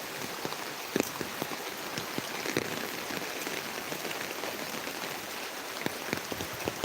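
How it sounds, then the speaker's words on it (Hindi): Rain falls steadily outdoors near a market during the rainy season, a soft continuous hiss of drops pattering on surfaces with scattered louder splats, fairly faint and unbroken with no talk. "आज वीडियो बरसात में ही शूट किया जाएगा।"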